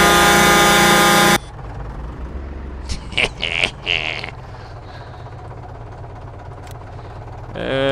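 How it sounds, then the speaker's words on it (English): A loud tractor horn in the Farming Simulator 19 video game gives one long, blaring blast at the start, then cuts off to a low engine rumble while someone talks. "we're going to use the loud tractor with the loud horn"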